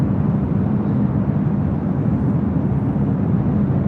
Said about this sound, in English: Emirates A380 Super.